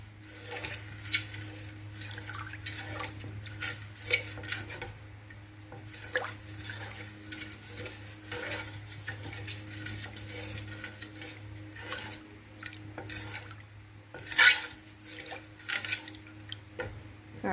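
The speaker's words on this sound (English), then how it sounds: "We're going to just mix and continue mixing until everything is" Spoon mixing sweet potato pudding batter with rum in a bowl, repeated clinks and scrapes against the dish with wet sloshing, close and steady, no talking.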